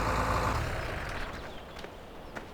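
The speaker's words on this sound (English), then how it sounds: "Tractor sounds nice." A tractor engine in the Farming Simulator 2013 game rumbles loudly at first, then settles into a steadier, quieter drone with a few faint clicks and knocks.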